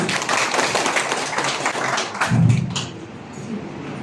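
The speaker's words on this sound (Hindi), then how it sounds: "इनके लिए जोरदार तालियां हो जाए" Audience at a district agriculture and animal husbandry workshop applauding a senior scientist, a dense burst of clapping that thins out and fades after a couple of seconds.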